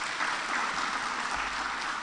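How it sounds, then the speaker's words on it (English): Audience applause for the governor at a Nairobi City County Climate Action Plan event, a steady dense wash of clapping that holds at even loudness throughout, alone without speech. "Please give her a hearty clap."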